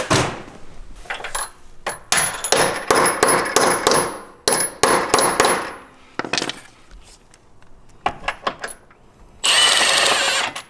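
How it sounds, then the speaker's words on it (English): Repeated sharp metallic hammer strikes on a Jeep JL Wrangler body mount bolt ring out in irregular bursts, loud and close, with pauses between groups of blows and a harsher scraping burst at the end. "Grab a hammer."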